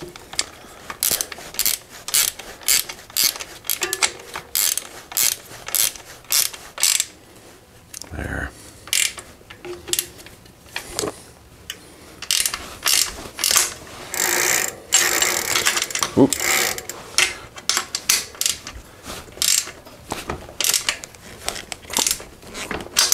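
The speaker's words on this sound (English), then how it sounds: "Let's see if I can get this wrench on there." A wrench ratchets while being fitted onto a part of a Giant Boulder SE bicycle, giving irregular bursts of close mechanical clicking with short pauses between them and no voice.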